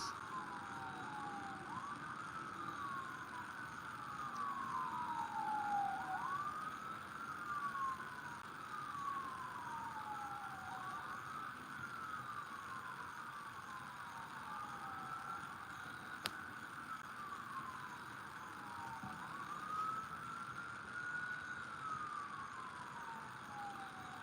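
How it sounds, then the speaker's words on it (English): Outdoor emergency sirens cycle through long wailing sweeps, several vehicles' tones overlapping and swelling slightly as they draw nearer, heard alone against a steady street hum. "I never hear sirens like this."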